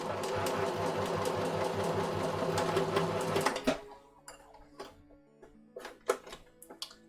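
A sewing machine stitching a child's jacket runs steadily and loudly with a dense mechanical rattle, then stops partway through, leaving scattered clicks and handling knocks.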